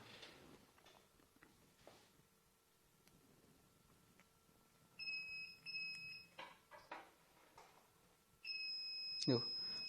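A multimeter set to continuity buzzer mode, testing a wire during mobile phone repair, gives several short high beeps followed by a longer steady tone, with someone speaking quietly between them.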